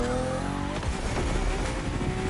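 BMW cars racing on a narrow, twisting road in the video game The Crew Motorfest, a loud engine roar with rising revs and tire squeal, steady and close, no talk.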